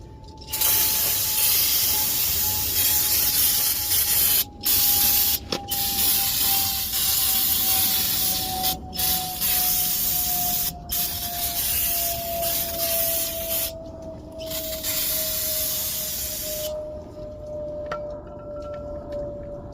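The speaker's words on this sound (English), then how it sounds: "Give it one more spray with brake clean." A continuous, loud aerosol hiss of brake cleaner sprays almost without pause on a 2009 Chevy Cobalt's brakes, with a few brief breaks and a faint whine beneath it.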